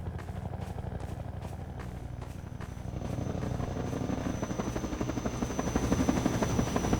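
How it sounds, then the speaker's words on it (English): The Hunter-Chopper helicopter from the video game Half-Life 2 in the Route Kanal chapter, a steady loud rotor thrum with rapid chopping beats and engine whine that swells slightly as it draws nearer, with no voices over it. "We have to contend with a hunter chopper, and we have no means to kill it with our weapons."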